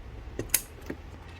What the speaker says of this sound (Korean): 대각선으로 앙카를 눌러주세요